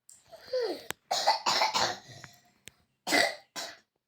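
A young girl coughs in several sharp, close bursts spread through a short pause-filled stretch, with a throat-clearing sound early on and no talk.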